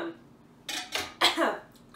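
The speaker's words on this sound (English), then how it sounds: "Cover your cough." In a home kitchen, a person gives several short, sharp coughs in quick succession, close and fairly loud against a quiet room.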